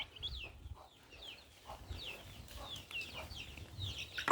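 Native hens cluck in low bursts while chicks peep with high, repeated chirps nearby, fairly quiet and scattered.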